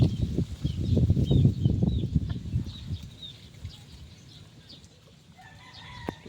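A mother hen gives low, rapid clucks, loud and close at first and then fading, with faint chirps from chicks or other birds scattered above them.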